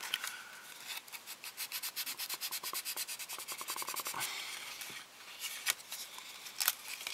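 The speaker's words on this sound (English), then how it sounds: "now I'm up to 320 or so grit sandpaper, and I'm just working my way up" Plastic model kit parts from a Hasegawa P-38 Lightning kit being sanded with 320 grit sandpaper: a close, steady run of quick rhythmic rubbing strokes that pauses briefly and then resumes with a few harder scrapes.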